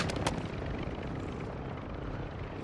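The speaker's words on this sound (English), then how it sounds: "Chopper coming in." Steady whirring rotor noise of a helicopter in the video game Warzone 2, fairly loud and close, with a couple of sharp bursts at the start.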